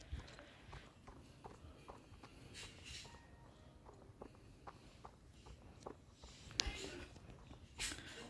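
Hooves clip-clop at a steady rhythm as a horse changes gait, faint and slightly distant, with occasional louder thuds and some background noise.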